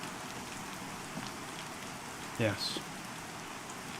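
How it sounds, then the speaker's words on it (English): Rain falls steadily in the fantasy online game Pantheon, a soft continuous patter with a single brief spoken word breaking in near the middle. "Rain is just so watery and wet and rain-like."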